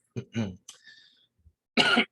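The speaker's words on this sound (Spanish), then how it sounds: "Podemos tener tos porque tenemos un problema" A few short, harsh coughs close to the mic, then a quiet pause and a louder, rougher burst at the end.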